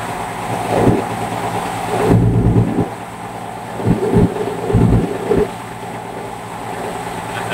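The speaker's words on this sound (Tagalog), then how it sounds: "Grabe yung ulan." Heavy rain drums steadily during a boat trip from Mindoro Island toward Batangas, with repeated low rumbling bursts of thunder rolling in and out over the constant downpour.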